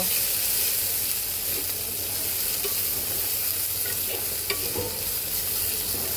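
Sliced onion fries lightly in a pan for a stinging catfish and bottle gourd shoot dish, giving a steady close sizzle and hiss with occasional faint stirring clicks throughout.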